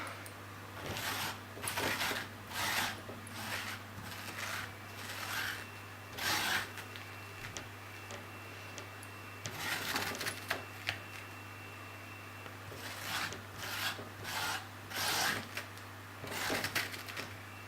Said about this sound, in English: I'll just scrape these last remaining bits out.